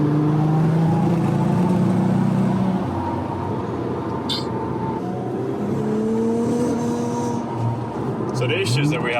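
An Audi RS4 B5 drives on snow, its engine droning steadily close by with shifting pitch as it accelerates and eases off, the car holding back rather than pulling cleanly.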